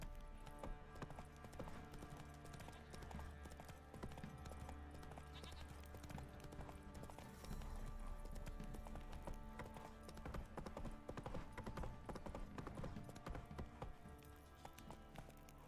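The horse Roach gallops in The Witcher 3, with rapid, continuous hoofbeats and clip-clop over a dense game soundscape.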